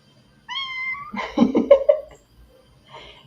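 A small all-black kitten meows nearby, first with a clear rising cry and then a string of harsher, wavering meows. A faint brief sound follows after a pause.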